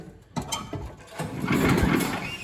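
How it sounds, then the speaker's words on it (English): Snowblower engine slowly turned over by hand with the auger lever held down, giving a few uneven mechanical churning strokes that build into a steadier rumbling whir, close and moderately loud. "I'm just turning the engine over with the auger handle down"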